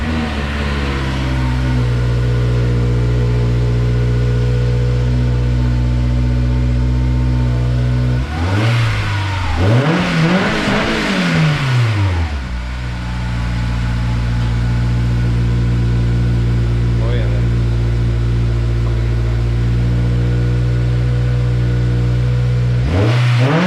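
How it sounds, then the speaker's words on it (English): A Honda S2000 fitted with a new aftermarket exhaust fires up, then revs hard in a couple of rising and falling sweeps before settling back to a loud, steady idle, with another quick blip at the end. "This is gonna be the first startup of the exhaust."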